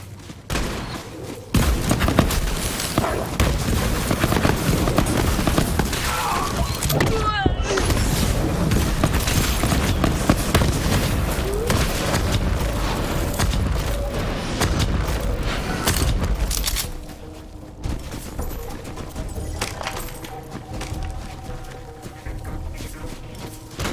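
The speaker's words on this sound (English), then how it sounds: "I love the smell of gunfire." Rapid gunfire and explosions from Borderlands 3 during the Wendigo boss fight in a forest area pound almost nonstop for about sixteen seconds, then thin out into sparser shots and bangs.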